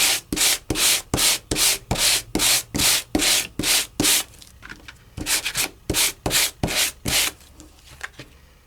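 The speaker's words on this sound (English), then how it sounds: "and give it a good little sanding." Close, rhythmic rasping strokes of a sanding tool on embossed paper, about twenty back-and-forth passes, with a brief pause midway before the scraping resumes.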